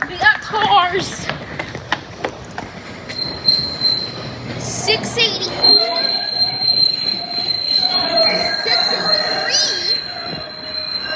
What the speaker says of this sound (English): Here we got a train coming in.